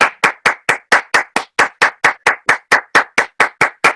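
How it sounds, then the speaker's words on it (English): A single pair of hands claps about seventeen times in a steady, even rhythm, close and crisp with no crowd or voices behind it. "Let's give him a round of applause."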